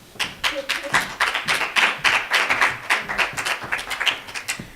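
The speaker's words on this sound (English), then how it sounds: "Please give a round of applause to Janine Graf" Audience applause following a speaker's introduction at a university participant papers presentation, a small group's uneven, rhythmic clapping with distinct individual claps, fairly close and steady throughout.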